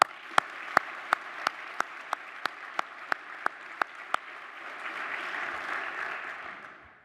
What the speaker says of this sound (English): please join me in applauding our directors